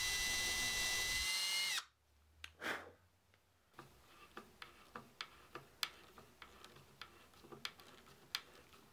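Screws driven into a handmade rustic wooden coat hook up close, a loud whirring drill run cut off abruptly, then a short burst and a series of sharp, evenly spaced ticks and clicks.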